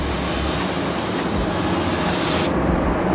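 A spray gun applying pearl white basecoat paint, a loud steady close hiss that cuts off sharply near the end.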